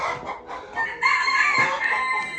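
Chickens cluck and a rooster crows inside a barn coop on a snowy day. The flock is loud and close, with overlapping calls and crowing swelling after the first second and carrying on without a break.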